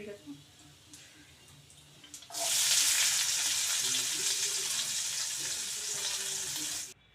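Cumin and mustard seeds hit hot oil with a sudden loud, bright sizzle that starts partway in and holds steady, crackling close up, after a quieter stretch of low kitchen noise.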